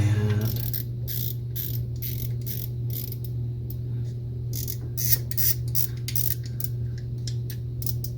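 The drag on a vintage Western Auto Revelation V1550 spincast fishing reel ratchets in quick, irregular bursts of sharp clicks close up, over a steady low hum.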